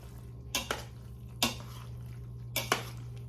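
Utensil stirring melting cheese in an Instant Pot casserole: a few soft scraping clinks against the pot in irregular pairs, close and fairly quiet over a low hum.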